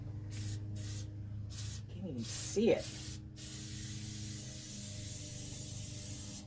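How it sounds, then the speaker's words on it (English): Several short bursts of aerosol spray hiss in quick succession, fairly close, with a brief voice speaking in between over a steady low hum. "So let's put these two together, and then I'll just spray."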